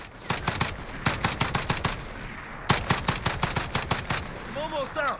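An FN FAL Paratrooper rifle fires in Call of Duty Modern Warfare: two long runs of rapid, loud, close shots with a short pause between them, then a few ringing tonal sounds at the end.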